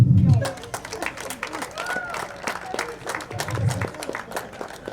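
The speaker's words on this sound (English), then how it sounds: "we ask that they step forward so we can applaud them for their efforts at leadership and sportsmanship" Applause from a crowd at a boys varsity soccer game as senior players are announced, scattered outdoor clapping with someone speaking over a PA system between bursts.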